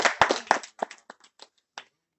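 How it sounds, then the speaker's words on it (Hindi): A few people in a lecture audience clap briefly, a short ragged run of close claps that thins out into a handful of scattered final claps. "तालियां बजाइए प्रकृति की इस व्यवस्था के लिए"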